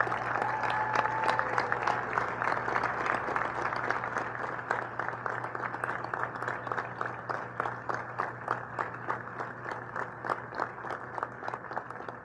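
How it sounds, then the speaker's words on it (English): Sustained applause from a banquet crowd honoring Hall of Fame inductees and award winners at a sports hall of fame dinner, dense steady clapping lasting throughout with no talk. "I would like one last round of applause for all our inductees and awardees you see here tonight."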